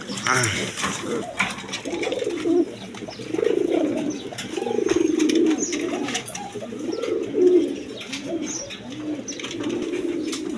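Oriental pigeons, a satinette-type breed, coo in repeated low rolling phrases at close range, with soft bird chatter and a faint voice in the background.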